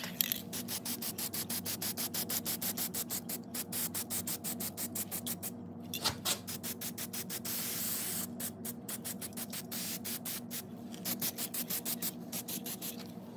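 Aerosol spray paint hisses in repeated short bursts onto Harley-Davidson fork tubes, laying a gloss base coat; the close, steady hissing pulses with brief pauses and no talking.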